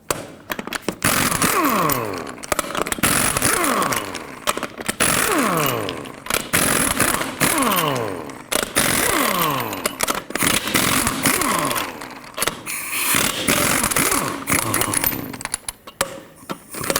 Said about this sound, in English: with a 22mm socket as well, go ahead and remove all 8 of your lug nuts